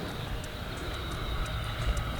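An E-flite Habu STS radio-controlled jet comes in to land with the throttle cut, leaving a steady, fairly faint whooshing hum that holds evenly throughout.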